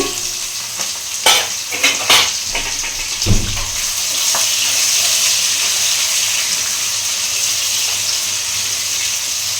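Fish pieces frying in a hot pan, a few sharp clinks and scrapes of a spatula at first, then a continuous close, loud, hissing sizzle that holds steady to the end.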